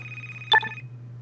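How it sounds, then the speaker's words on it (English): A telephone rings once in the Car Mechanic Simulator 2015 garage video game, a short bright electronic ring over a steady low hum, with no talk. "Do you hear the phone ringing?"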